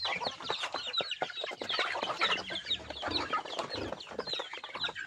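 A hen, broody and sitting on eggs, clucks repeatedly up close on a provincial farm with other livestock around, a dense run of short overlapping clucks and calls with no talking.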